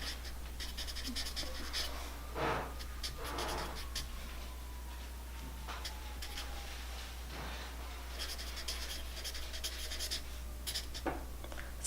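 A pen or pencil writes on paper in short scratchy strokes and taps, close and quiet over a constant low hum, with brief pauses between bursts of writing.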